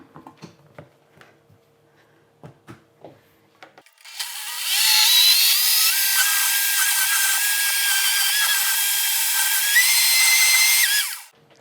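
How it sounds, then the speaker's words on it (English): A blender whirs cottage cheese for mac and cheese in a loud, steady, high-pitched grinding run of about seven seconds. Before it starts there are quiet clicks and handling sounds as the lid goes on. "the longer you blend it, the creamier it will get"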